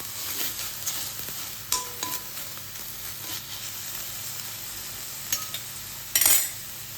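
Grated coconut being stirred and mixed into cooked rice for narali bhaat, soft scraping of a spoon in a pot with a faint sizzle underneath and a few sharp clinks of utensil against the vessel.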